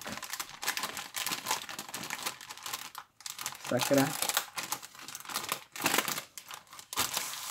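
A football trading card pack's wrapper is crinkled and torn open up close in steady, crackling bursts with brief pauses, while someone talks in Czech.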